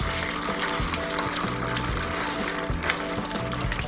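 Chunjang, Korean black bean paste, sizzles as it fries in a pan over medium-low heat. The crackle is steady and close, with a rhythmic scraping of stirring running beneath it.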